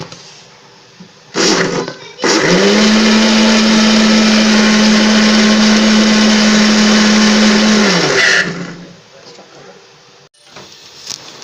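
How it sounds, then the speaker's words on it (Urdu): A blender whirs through raw mango (keri) sharbat with added water, a few brief pulses and then a loud, steady high-speed run of about six seconds that winds down to silence, heard close up. "اس کو کریں گے بلینڈ۔"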